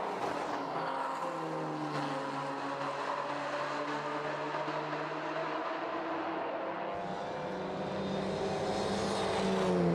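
Touring race cars including a Porsche and a Volkswagen Scirocco racing on a circuit, engines droning at high revs with shifting pitch as cars pass, heard from trackside at moderate distance.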